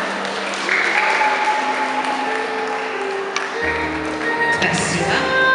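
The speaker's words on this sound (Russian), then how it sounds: "Аплодисменты." An audience claps at a junior dance competition, Kirillovka 2019, a dense, even patter of many hands sustained throughout while music tones ring faintly beneath it.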